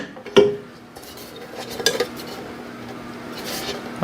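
Metal bread pan of a Vevor bread maker being handled and fitted into the machine: a sharp clank at the start, then scraping and rattling, and a few light metallic knocks near the end.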